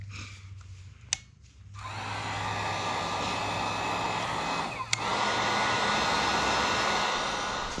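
Heat gun blowing hot air to soften the adhesive behind a car logo, a steady loud whooshing drone that starts after a brief click, dips for a moment midway and then continues.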